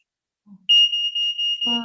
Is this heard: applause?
no